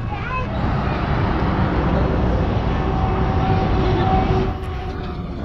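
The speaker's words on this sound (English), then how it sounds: "That cargo train took about 3 minutes to clear." A long freight train rumbles past steadily with a broad, continuous roar and faint squealing tones, fading slightly toward the end.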